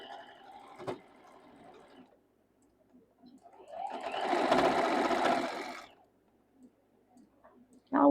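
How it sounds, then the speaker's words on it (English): A home sewing machine stitches quilt block seams in two short bursts, a rapid whirring chatter with a sharp click between them, close by in a quiet room. "I'm sewing in real time"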